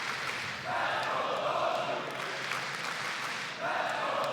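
Crowd at the CS2 StarLadder Budapest Major 2025 esports event roaring in a large arena, a distant broad wash of cheering that swells in surges under a caster's voice.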